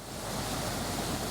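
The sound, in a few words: river flowing in the background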